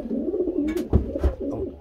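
Pigeons kept for breeding matings coo softly in a loft, soft rolling coos and low throaty murmurs repeating close by, with some faint rustling and no talk.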